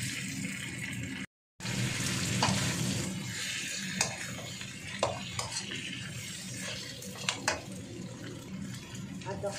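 Rice noodles stirred and tossed in a pan for Thai pad kee mao, with steady frying hiss and clinks of utensil against pan, over a low hum.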